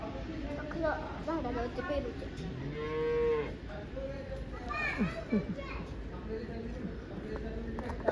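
Cattle at a farm with bulls and calves lowing in several drawn-out moos, fairly close, mixed with steady chatter from adults and children nearby.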